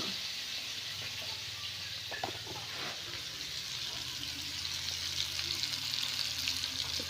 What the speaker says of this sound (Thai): คั่วให้มันหอมหอม